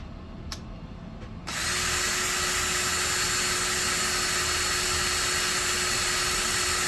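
A couple of faint clicks, then a power drill spins up and runs at a steady high whine for several seconds, close and continuous, while restoring a fire-damaged SNES console.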